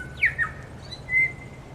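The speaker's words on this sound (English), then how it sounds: "That call that you can hear in the background is the California quail." A short series of high, squeaky California quail calls: two quick notes, then one sustained note, over a low background rumble, on Quail Island, New Zealand.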